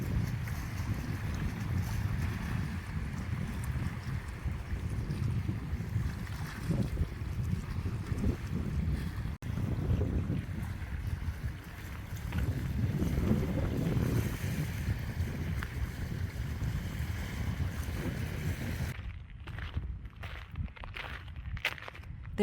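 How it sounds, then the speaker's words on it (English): Ocean waves washing along the shore at a coastal nature preserve in Chula Vista near San Diego: a steady low surf roar mixed with wind rush that runs throughout and breaks into choppy gusts near the end. "You can hear the ocean waves"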